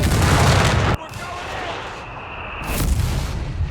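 Company of Heroes 3 battle with pack howitzer and mortar fire: a loud artillery blast rolls out at the start, a sharp cut drops it to a quieter rumble with a thin whine, and a second booming shot swells near the end.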